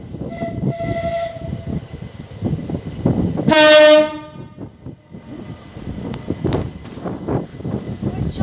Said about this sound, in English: Train goes.